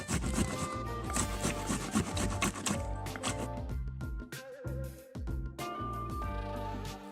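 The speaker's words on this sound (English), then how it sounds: "I'm just going to grate these into here." Fresh, very juicy tomatoes grated into a bowl for pasta sauce, a rapid rhythmic rasping scrape that runs nearly throughout with a short pause, loud and close with no talk.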